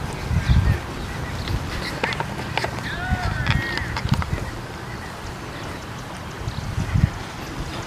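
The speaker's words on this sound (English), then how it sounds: "You can hear the birds" Outdoor bird calls at a school construction site in the United States, a few honking and chirping notes scattered over a steady background hum, with some voices and low rumbles mixed in.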